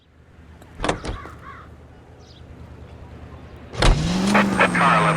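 A car in the L.A. Noire video game gives a couple of door-like thuds, then its engine fires up and holds a rising, steady hum as it pulls away, loud and close.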